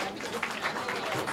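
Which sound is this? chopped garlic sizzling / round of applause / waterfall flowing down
round of applause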